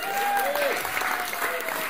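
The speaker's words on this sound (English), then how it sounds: "let's have another massive round of applause for the 5 Taps Bar" A brief burst of crowd applause at a community peace event in Blenheim, dense clapping at moderate loudness with a voice or tonal sound running faintly over it.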